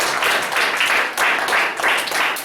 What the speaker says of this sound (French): Acclamation pour les enfants.